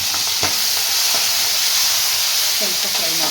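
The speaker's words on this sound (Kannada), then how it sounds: "ಸ್ವಲ್ಪ ಫ್ರೈ ಮಾಡ್ಕೊಳ್ಳೋಣ." Garlic, green chillies and a small capsicum fry in a hot pan, giving a steady close sizzling hiss with a few soft stirring knocks.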